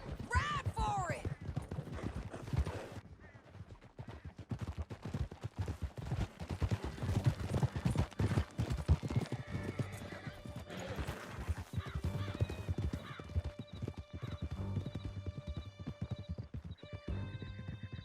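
Horses galloping hard through a canyon in the video game Red Dead Redemption 2, rapid continuous hoofbeats with neighs and whinnies near the start, gunfire faintly mixed in, and a voice shouting briefly early on.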